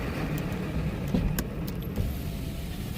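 A diesel truck rumbles close by with steady, fairly loud engine noise throughout and a couple of brief clicks or knocks on top.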